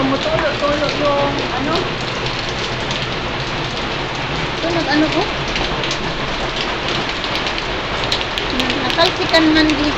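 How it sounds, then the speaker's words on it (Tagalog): Heavy rain falls and drums steadily on surfaces nearby in a dense, unbroken hiss that lasts throughout, with a voice speaking faintly under it. "Lakas ng ulan mo."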